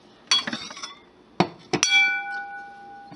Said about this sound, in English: Nice chime there.